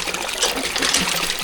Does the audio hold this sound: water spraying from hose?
yes